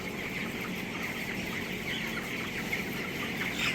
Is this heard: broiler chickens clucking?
yes